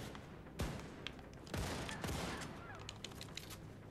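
Bursts of gunfire aimed at the player in the shooter game Wolfenstein II: The New Colossus, several sharp cracks and rattling volleys over a steady game background, fairly loud and close.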